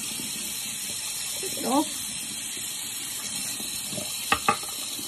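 Tap water runs steadily into a sink as a device head from a post-gym skin routine is rinsed, a soft continuous hiss with a few brief splashes and a short spoken phrase.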